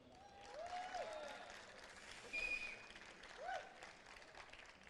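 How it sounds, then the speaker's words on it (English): Applause from an esports crowd at IEM Singapore, broad and steady, swelling in a couple of brief surges, with some voices and whistles mixed in. "It's good clapping, it's a good start."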